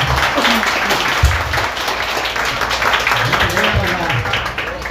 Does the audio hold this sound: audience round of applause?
yes